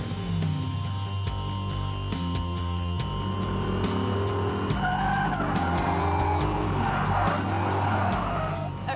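A drift car skids and squeals its tires through a puddle on a wet track, the engine loud and droning throughout, with sliding screeches and water hiss building toward the end.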